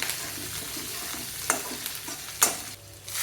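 Onion, green chilies, ginger and curry leaves sauté and sizzle in a pan for upma, with steady frying hiss and a few scraping stirs of a spoon.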